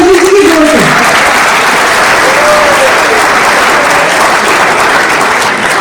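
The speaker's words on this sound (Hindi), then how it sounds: "इससे ताली बजीजी की जोर से।" An audience at a Constitution Day ceremony applauds loudly, a dense sustained wash of clapping from many hands that fills the whole six seconds close up, with a brief voice at the very start.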